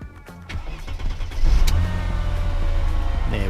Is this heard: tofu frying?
no